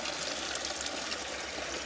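Water filling bottles at a mineral spring bottling spot, a steady close rushing and splashing flow with a continuous hiss throughout.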